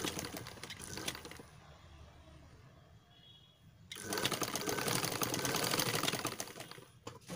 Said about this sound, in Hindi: इस तरह से हम इसकी ऊपर तक ऐसे हम सिलाई कर लेते हैं।